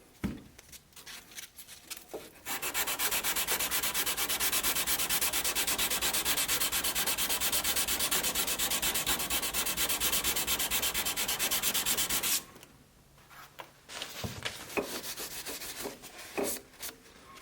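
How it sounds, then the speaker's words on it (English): Hand sanding of a Damascus steel knife with small sanding blocks, a steady, close scraping rub that runs continuously for about ten seconds, with scattered shorter strokes and handling noises before and after. "Then I'll finish up using small sanding blocks, popsicle sticks, and so on to get everything smoothed out."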